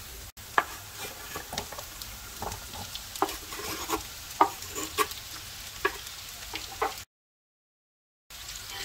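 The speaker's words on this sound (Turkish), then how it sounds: "Orta ateşte biraz karıştırarak kavuralım." Potatoes and onions sizzle quietly in a pan over medium heat while a utensil stirs them, with soft scraping clicks every second or so, before a moment of silence near the end.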